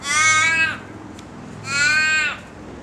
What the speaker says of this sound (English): couple of crows have just flown into the tree.